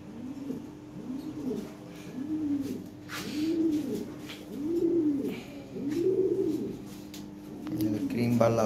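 Red, grizzle, blue-bar, black and cream-bar Lahori pigeons in a loft coo in a steady run of low, rounded calls, roughly one per second, close by, with faint chirps and background rustle.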